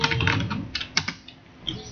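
Rapid clicks and clacks of a computer keyboard being typed on, close and fairly loud, with a burst of keystrokes followed by a few scattered taps.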